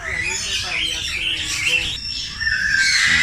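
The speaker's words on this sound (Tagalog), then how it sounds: "Red vented kakatu." Harsh, raspy squawks from a red-vented cockatoo at a zoo ring out repeatedly against a busy background of other birds calling, with a voice murmuring faintly beneath.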